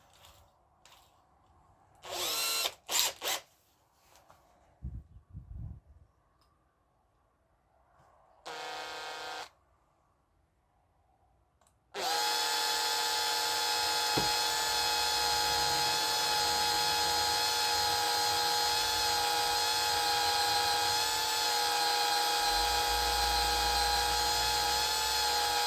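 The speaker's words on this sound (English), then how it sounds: "Very small drill first of all." A very small drill bores a pilot hole, starting with a few brief bursts and then settling into a long, steady, high-pitched whine that stays loud and even.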